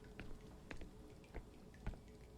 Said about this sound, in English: This bucket is full of water from the condensation on those pipes.